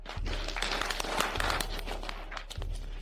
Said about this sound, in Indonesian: Mari beri tepuk tangan untuk tim peneliti obat anti kanker.